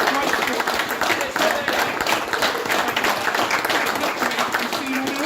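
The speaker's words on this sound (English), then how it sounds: "Round of applause for all of you." Tournament attendees at a Kent Warhammer 40k event applaud. The clapping from the crowd stays loud, dense and steady through the whole stretch.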